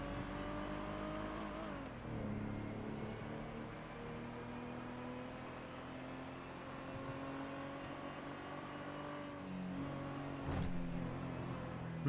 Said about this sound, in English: That's a motorcycle that's gonna kill me.